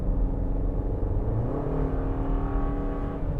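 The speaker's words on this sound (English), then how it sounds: "Pulling up a long hill here, you'll notice that the engine has a kind of gruff sound to it" A Toyota RAV4 SUV engine pulls up a long hill, heard from inside the cabin as a steady, gruff low drone with a slowly rising tone, loud and continuous with no talking.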